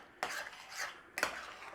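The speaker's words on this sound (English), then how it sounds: "So we're going to stir that in there, and that's going to thicken to a big gloopy mess" A spoon scrapes and stirs a corn flour slurry into an apple filling in a pot, two short bursts of scraping and clinking about a second apart, close and without talk.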